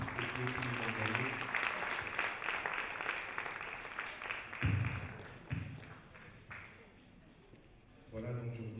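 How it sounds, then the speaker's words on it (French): Audience applause for panel speakers at a sustainability panel, thinning out over several seconds, with a voice speaking at the start and again near the end. "Est-ce que nous pouvons applaudir nos intervenants pour toutes ces clés qu'ils nous ont données?"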